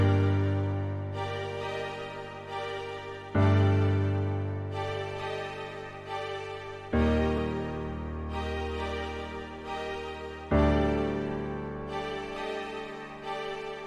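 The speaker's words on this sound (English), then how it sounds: "So the strings paired with our first piano melody," An FL Studio beat pairing Omnisphere strings with a piano melody: sustained, layered tones with a chord change roughly every three and a half seconds, each change marked by a swelling attack that slowly fades.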